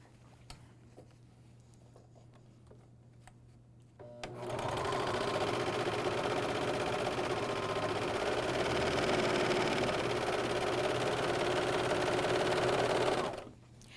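An AirThread 2000D serger runs a bathrobe side seam, starting after a few quiet clicks and then whirring steadily and loudly at high speed for about nine seconds before stopping abruptly.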